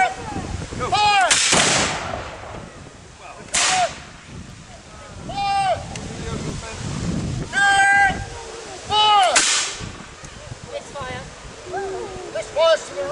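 Musket volleys ring out at a military re-enactment at Falkland Palace in Fife, Scotland: several sharp, loud reports spaced a few seconds apart, with shouted drill commands and other voices carrying between and over the shots.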